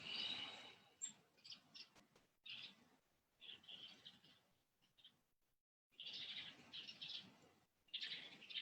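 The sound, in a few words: bird singing in the background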